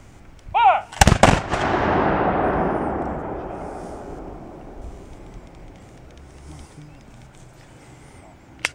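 Reenactors fire a ceremonial rifle volley at Fort Frederick, one sharp loud crack of several black-powder guns at once followed by a long rolling echo that fades over several seconds. A voice calls out just before.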